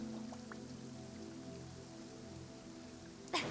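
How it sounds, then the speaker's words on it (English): Rain pouring down in the Genshin Impact video game, a soft steady patter of raindrops under a low tonal game music drone, ending with a sharp sudden sound. "It's pouring out here."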